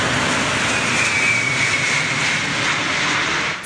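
The giant six-engine Antonov AN-225 cargo plane roars loudly and steadily as it descends to land at Perth International Airport, a broad continuous jet rumble with no talk.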